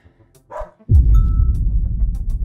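A dog in a scary video game gives a short bark, then a loud, dense rumbling noise fills the rest of the moment, with the bark briefly standing out before being swallowed.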